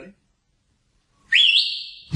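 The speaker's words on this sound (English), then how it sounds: "Are you ready for this big whistle?" A single loud human whistle rises sharply and holds a high, steady piercing tone for nearly a second, close and alone after a short silence, then cuts off into a burst of noise.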